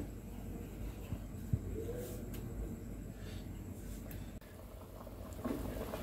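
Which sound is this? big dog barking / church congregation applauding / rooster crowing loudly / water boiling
water boiling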